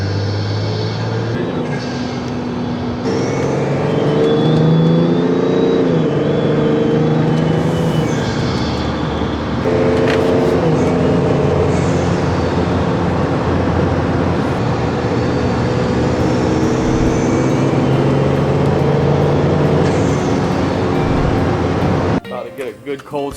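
A diesel BMW X5 E70 with a cheap modified intake cold-starts and idles, giving a loud steady engine drone with exhaust and intake roar and shifts in pitch throughout, while someone talks over it now and then.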